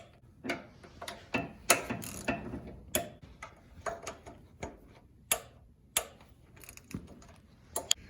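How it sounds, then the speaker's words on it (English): Torque wrench tightening bolts on a Briggs and Stratton engine to 14 foot-pounds, giving sharp, close ratcheting clicks in irregular bursts with no one talking. "You're going to go 14 on your torque wrench"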